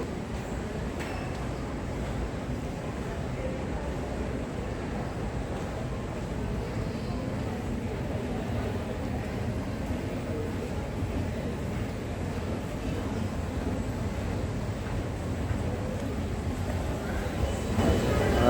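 Steady rumble and hum inside a Dubai Metro Red Line train running along the elevated track, a continuous even drone with no talking, swelling slightly at the end.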